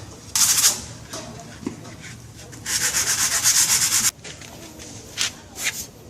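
Sandpaper rasps against a scooter muffler guard in several bursts, one short stroke then a long sustained scrubbing, close and loud, followed by a few quick rubs.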